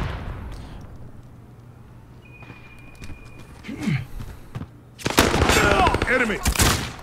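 Call of Duty: Modern Warfare team deathmatch on a map with scaffolding: sparse single shots early, then a dense, loud burst of automatic gunfire in the last two seconds, with faint game voice chatter.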